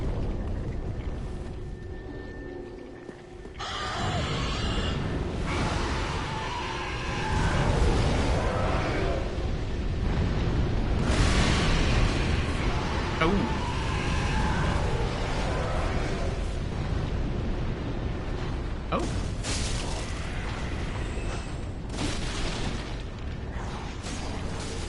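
Black fire bombs bursting in a video game, a dense wall of loud, roaring blasts and rumbling booms that keeps churning without pause, with brief dips and sharp crackling transients scattered throughout.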